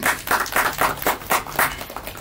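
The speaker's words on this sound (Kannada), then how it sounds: "ನೀವೊಬ್ಬರೇ ಯಾವಾಗಲೂ ಚಪ್ಪಾಳೆ ತಡ್ತಿರಲ್ಲ, ಯಾಕೆ?" A single person claps hands at a film press meet, about eight sharp, evenly spaced claps in a steady rhythm, moderately loud against a quiet room background.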